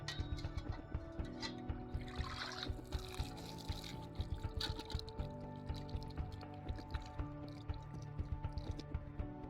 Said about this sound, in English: This is the ingenious bush tap.